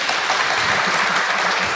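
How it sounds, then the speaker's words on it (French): A live podcast audience in Rennes applauds, a dense, steady wash of clapping that runs unbroken and fairly loud from start to finish. "Ceux qui pensent que non, applaudissez"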